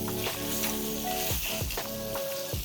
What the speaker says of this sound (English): add about a tablespoon of oil and add in your spring onions